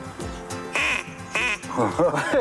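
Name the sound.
duck call imitating duck quack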